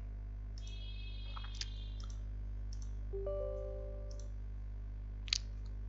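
A computer mouse gives a few faint, sharp clicks, well spaced in a quiet room over a low electrical hum, with soft electronic tones between them.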